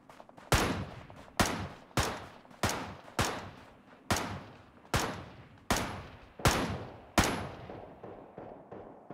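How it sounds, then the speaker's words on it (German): A series of about ten sharp video-game gunshots from Ring of Elysium fire one after another at a steady, irregular pace, each with a short echoing tail, with no talking. "So, ich höre auf jeden Fall Schüsse."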